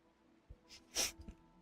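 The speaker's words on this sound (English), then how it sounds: "I had to sneeze." A single sneeze from a game character in Honkai Star Rail, set in a lively holy city, with a short sharp intake before the loud burst and faint crowd ambience around it.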